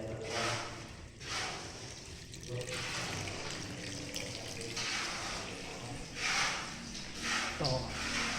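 Tap water runs steadily from a faucet, filling a container during a granite test, a continuous broadband splash with a few surges and dips, fairly close, with no clear talk over it.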